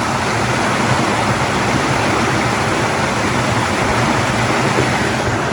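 Water gushes out of canal drains along the Strabane Canal, a loud, steady broadband rush that runs continuously with no pauses or voices.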